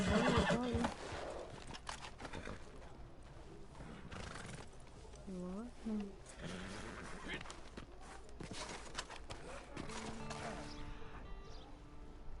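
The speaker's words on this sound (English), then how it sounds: "Caballo." A horse in Red Dead Redemption 2 gives a loud whinny at the start and again midway, with hooves clip-clopping between the calls and a player talking quietly in the background.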